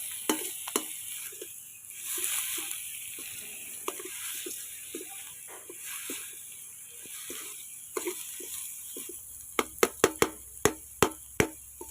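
Pork stir-fried with curry paste in a pan gives a steady soft sizzle with scraping stirs throughout, ending in a run of sharp, evenly spaced clicks of a utensil against the pan.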